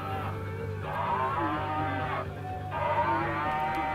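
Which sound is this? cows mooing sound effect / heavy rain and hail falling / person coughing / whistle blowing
cows mooing sound effect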